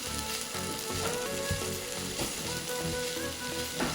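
Cauliflower, tomato and shrimp sizzle and fry in a pan, a continuous crackling hiss with occasional stirring scrapes and clinks, close and steady without talk.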